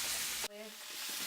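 A steak sizzles steadily in a hot, lightly oiled pan, a continuous close frying hiss that briefly dips and then resumes, with no talk.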